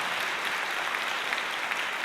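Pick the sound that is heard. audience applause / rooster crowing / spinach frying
audience applause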